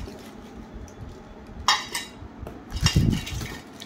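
A metal lid of a nonstick, induction-base pressure cooker is handled, giving two brief clusters of clinking and scraping against low room noise.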